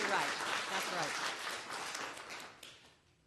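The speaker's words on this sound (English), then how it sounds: "Let's clap for that." Congregation at a Unitarian Universalist Sunday service applauding together, a dense steady wash of clapping that fades out near the end.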